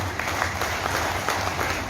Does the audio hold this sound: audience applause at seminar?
yes